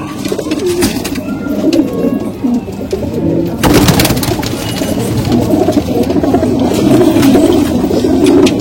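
Malwai pigeons coo continuously and loudly up close, overlapping throaty rolling calls from a flock, with a brief rustling burst midway.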